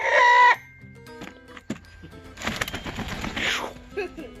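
A large Brahma rooster among hens, with a loud clucking or crowing call at the start followed by rustling, scratching and softer fowl noises in the background.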